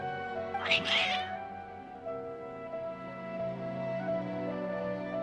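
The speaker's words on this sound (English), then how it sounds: "Your cats seem pretty worked up." Cats in Genshin Impact meow loudly in a brief close yowl over a steady layer of soft in-game music, with a little more mewing sound fading into the background afterward.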